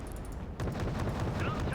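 An auto-cannon-armed transport vehicle firing in the Wargame Red Dragon real-time strategy game, a rapid burst of heavy booming cannon rounds that starts abruptly and keeps pounding, close and loud.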